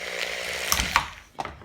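Multi-tool boring a hole into the back of a shotgun shell, a close grinding and scraping with a few sharp clicks and a short rasping scrape toward the end, heard alone.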